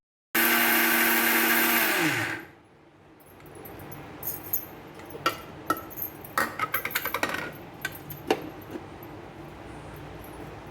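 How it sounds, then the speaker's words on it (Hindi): A mixer grinder pulverizes fried baati into churma in a loud, high whine that winds down after about two seconds, followed by quieter clinks and rattles of the jar and lid. "तो देखिए कितना बढ़िया हमारा चूरमा पीसा गया है"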